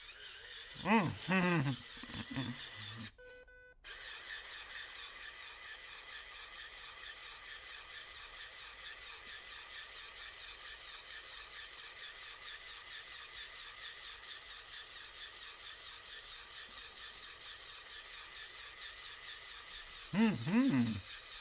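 A U-shaped electric toothbrush buzzes with a steady, faint, continuous hum while it scrubs the teeth, and brief stretches of talk come at the start and at the end.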